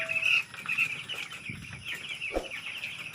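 Broiler chickens in their pen at day 17 of raising, a flock clucking and chirping steadily at close range, with a few louder calls and a brief burst of flapping near the middle.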